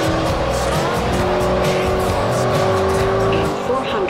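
A racing car's engine drones loudly and continuously in Forza Horizon, its revs rising and falling with tire squeal as it drives, while a voice talks over the top.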